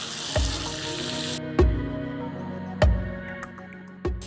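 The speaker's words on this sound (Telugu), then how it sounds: "వంకాయ ముక్కలు వేసిన తర్వాత పోపు అంతా వంకాయ ముక్కలు పట్టేలా మిక్స్ చేసుకోవాలి" Boiled brinjal pieces are stirred into a hot oil tempering in a pan: a steady frying sizzle broken by four heavy spoon knocks against the pan at regular intervals, close and alone.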